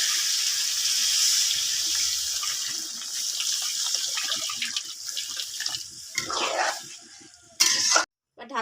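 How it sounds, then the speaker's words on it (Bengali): Water poured into a pan of spiced potatoes being cooked for a Bengali fish curry, a continuous close splashing gush with bubbling that swells and then breaks off near the end, with no voices. "মশলা আলু আমার ভালোভাবে কষানো হয়ে গেছে এরপর দিয়ে দিব জল"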